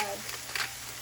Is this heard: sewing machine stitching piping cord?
no